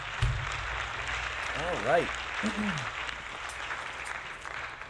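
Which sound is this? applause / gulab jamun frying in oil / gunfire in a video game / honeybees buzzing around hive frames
applause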